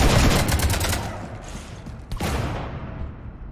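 Dense gunfire in Mass Effect 3, a rapid rattling burst aimed at a ship, loud at first and then thinning into a rushing, fading wash with one sharp hit partway through.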